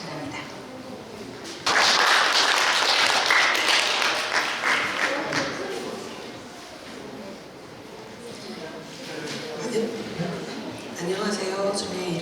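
Audience applause at a speech contest for deafblind people, a loud burst of clapping that rises suddenly and carries on steadily for several seconds, fading slightly then swelling again near the end.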